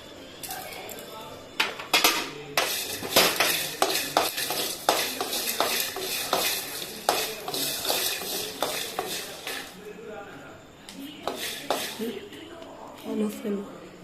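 Black peppercorns, fenugreek seeds and cumin toasting in a pan on the stove, with a steady run of rattling, scraping stirring strokes and light clatter against the pan over a faint background sizzle.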